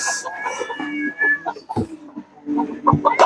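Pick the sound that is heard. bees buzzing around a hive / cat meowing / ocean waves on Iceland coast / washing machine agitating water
cat meowing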